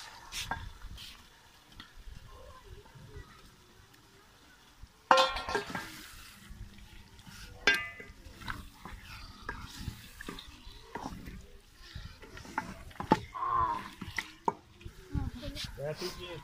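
Mutton pieces going into hot spiced karahi masala with vinegar, a sudden sizzle followed by ongoing frying and stirring scrapes, with a voice talking at times.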